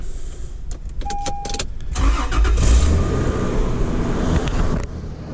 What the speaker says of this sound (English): I'll give them a quick cold start.